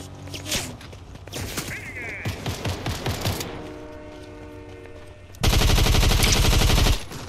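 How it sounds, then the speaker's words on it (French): Gunfire from other players in a Fortnite no-build ranked match: scattered shots early on, then a loud, dense rapid burst near the end, mixed with other game sounds. "y'en a qui me tire dessus"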